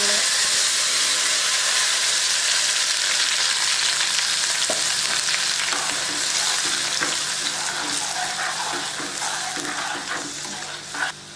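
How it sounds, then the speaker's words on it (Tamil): Spicy red kara chutney, ground and poured into hot oil tempered with mustard seeds, urad dal and curry leaves, sizzles and bubbles loudly and steadily, with faint stirring clicks and no voices. "அரைச்சி வச்சுக்கிற கார சட்னி வந்து நான் எண்ணெயில் வந்து ஊற்றிட்டேன்"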